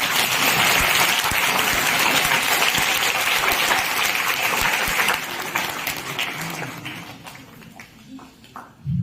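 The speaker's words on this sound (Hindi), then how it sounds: "जोरदार तालियां।" Loud, dense applause fills the hall at a school event, holding strong for several seconds before thinning into scattered claps as a voice begins to speak.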